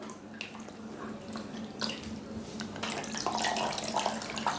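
Water trickles and drips from a soaked cloth strip as it is wrung out by hand, a steady close splashing that grows denser toward the end, with no talking.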